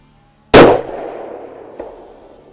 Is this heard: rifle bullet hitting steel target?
yes